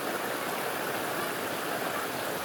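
Floodwater runs off a hillside in a steady, dense torrent, roaring close by like a fast stream pouring down a slope.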